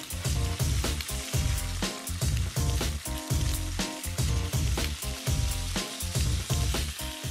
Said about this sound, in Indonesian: Dan kita akan tumis sampai wangi.